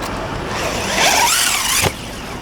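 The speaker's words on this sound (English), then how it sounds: "I blipped the throttle right before it hit the ground, and it kept it level" LRP S10 Blast 2 4x4 electric RC race buggy whining through a jump, motor pitch rising and sweeping as the throttle is blipped, ending in a short landing thump, fairly near with no talk.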